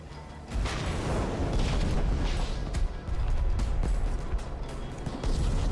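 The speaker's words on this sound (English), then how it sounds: "Those fireworks are not going very far." Fireworks bursting in a video game, a dense run of booming, crackling blasts that roll on loudly and almost without a break, with one brief dip partway through.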